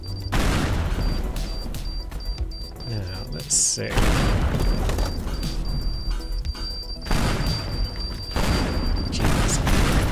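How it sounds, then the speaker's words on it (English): Repeated loud explosions and crashing collapses ring out in the voxel demolition game Teardown, big booms rolling one after another across the whole stretch with someone briefly talking between blasts. "Jeez, that's a lot of explosions."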